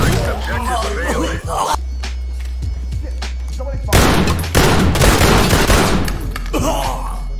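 Gunfire from a tactical police shooter, Ready Or Not: loud bursts of shots crackle in several spells across the stretch, with a heavy low rumble and some voices in between.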